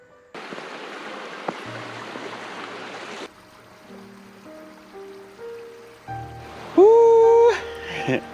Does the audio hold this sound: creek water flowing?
yes